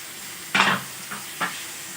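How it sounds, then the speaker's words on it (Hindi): Tomato, turmeric, Maggi masala powder and salt roasting over a low flame in a pan for methi masoor dal, with one soft burst of sizzling and stirring followed by two quieter short scrapes. "ये हल्की आंच पे भुनी गया है।"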